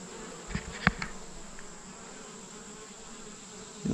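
Honey bees buzz around cleaned honey supers set outdoors, a steady faint insect drone with a few brief louder passes close to the microphone.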